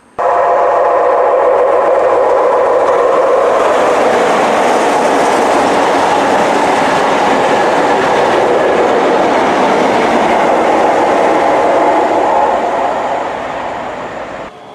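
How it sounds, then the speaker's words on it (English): A 4-coach class 385 train pulls into a station, a loud, steady rumble of wheels and rail noise that holds for about twelve seconds before easing off as it slows. "So our train should be arriving now, 4-coach train, take us to the Bridge of Allan."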